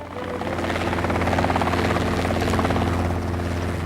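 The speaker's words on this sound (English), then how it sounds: "Well, Allana, the helicopter looks great." A helicopter flies nearby with a constant, throbbing rotor drone and a whining engine. The sound swells slightly and holds steady and loud with no voices.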